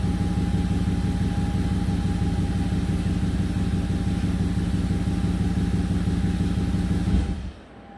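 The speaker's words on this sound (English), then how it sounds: "I turned the key off to shut the engine off" A 2008 Audi Q7 engine idles steadily with an even mechanical hum and tick, close and alone, then is shut off with the key, the sound dying away quickly in the last second.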